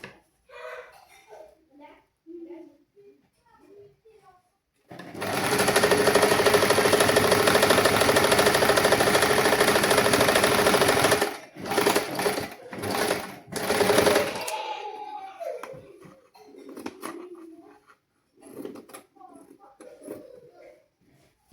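A sewing machine runs loud and steady for about six seconds over a joined fabric seam, then gives three or four short bursts. Quiet talk comes before and after the stitching.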